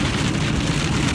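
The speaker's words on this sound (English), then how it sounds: "now it's raining really hard" Heavy rain pours down in a dense, steady hiss with a low rumble beneath it, loud and continuous for the whole short stretch, with no voices.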